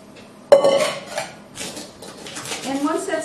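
Egg white mixture is folded into almond cookie batter for Italian ricciarelli, opening with a sharp utensil clank against the bowl, then softer scraping and clinks, with a voice talking near the end.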